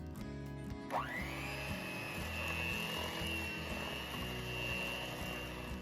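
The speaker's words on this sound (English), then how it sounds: "I am going to blend this till it's nice and creamy on medium speed, scraping down the sides of the bowl." Electric mixer on medium speed blending dark molasses and commercial egg replacer in a bowl for cookie dough, a steady motor whir with faint rhythmic scraping, close and continuous throughout with no talking.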